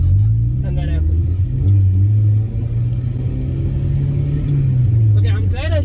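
Engine of a turbo Mazda Miata with a broken turbo while driving: a loud, steady low drone that rises and dips slightly with throttle, with brief higher whines near the start and end.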